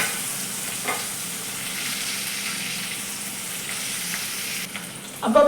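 Green chilli, garlic and ginger frying for a garlic–green chilli sweet pickle, with a continuous close sizzle and soft stirring scrapes, ending in a brief sharper clatter.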